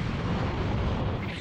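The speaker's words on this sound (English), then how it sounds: "Special beam cannon!" Special Beam Cannon energy blast from a Dragon Ball scene, a loud, dense roaring rush of noise, sustained and broadband like an eruption, easing slightly toward the end.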